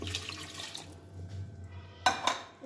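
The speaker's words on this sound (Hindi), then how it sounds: "और पानी भी थोड़ा सा डाल लें साथ," Water poured into gram flour and maida batter for kadhi pakoda, a splashy, trickling pour over a low hum, with a couple of sharper clinks and sloshes near the end.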